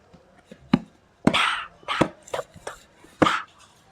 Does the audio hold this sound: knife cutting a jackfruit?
yes